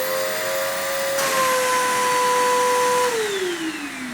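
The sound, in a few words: vacuum cleaner running, hose suction test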